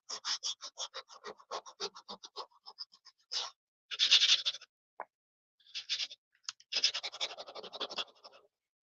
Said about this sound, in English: A little gator sander works so much better